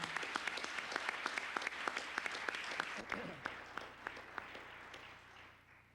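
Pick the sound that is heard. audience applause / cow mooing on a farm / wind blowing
audience applause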